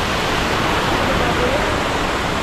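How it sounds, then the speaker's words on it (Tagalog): Waterfall roaring steadily, a loud dense broadband rush that fills the whole stretch without a break. "Yan po, galing dito sa talon."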